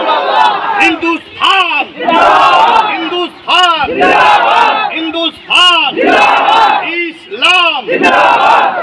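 A loud, close crowd at a village protest march against the Waqf Bill chants slogans in call-and-response, with voices rising and falling in a regular rhythm of repeated phrases for the whole stretch.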